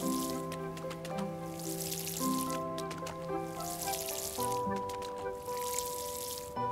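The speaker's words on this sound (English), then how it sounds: "Water the plants again." Water pouring onto plants in the farming video game Paleo Pines, soft bursts of splashing that repeat three times over layered background music and game tones.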